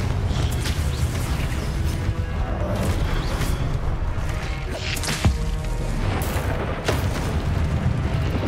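Confringo blasting-spell explosions and combat effects in Hogwarts Legacy sound as loud, dense booms and whooshes with sharp cracks at intervals, without any talk.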